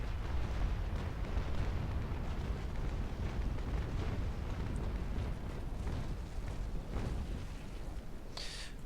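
Cannon broadside explosions from the naval warfare game Naval Action, in a tournament battle: a dense, continuous, loud roll of booming blasts and rumbling that runs unbroken throughout, with no voices.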